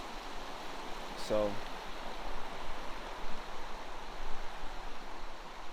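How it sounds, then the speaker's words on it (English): A clear stream flows on a hiking trail, a continuous broad rushing of water throughout, with one short spoken word near the start. "we'll hang out on the stream for a little bit."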